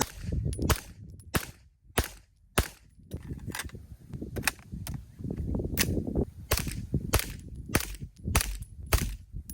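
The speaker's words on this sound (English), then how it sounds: "And a mag dump. Griffin Armament Mark II AR9." A Griffin Armament Mark II AR9 fitted with a HuxWrx Flow 9K TI suppressor fires a rapid mag dump, roughly a dozen sharp suppressed shots in uneven succession, loud and close.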